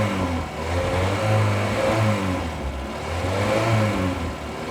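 A Citroen C25 CityCamper engine running rich while warming up, with a steady, loud, rough mid-pitched drone and uneven throbbing pulses throughout, with no voices.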